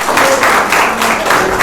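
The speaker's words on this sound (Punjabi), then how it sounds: "ਮਾਰੋ ਤਾਲੀ ਫਿਰ ਆਪਣੇ ਪੰਜਾਬ ਲਈ।" A Punjabi audience claps loudly and steadily, a dense close-up wash of applause with swelling waves and no speech over it.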